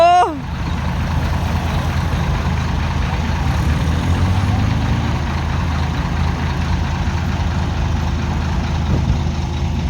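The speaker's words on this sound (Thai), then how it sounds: "เมีย เมีย ขึ้นไปสตาร์ทรถให้เนาะ" A vehicle engine idles steadily on a roadside where another vehicle is being pulled out, a continuous low rumble running throughout with a brief higher tone near the start and voices talking over it.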